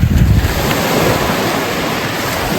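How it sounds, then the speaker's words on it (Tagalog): Strong wind and sea waves wash on a seashore at low tide, a loud continuous roar of surf and rushing air with heavy wind buffeting against the microphone, no voices. "Hangin."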